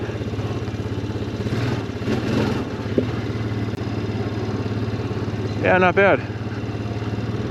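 A 2007 Honda Foreman ATV engine runs steadily while riding in third gear, with a constant low drone throughout and a brief spoken comment near the end.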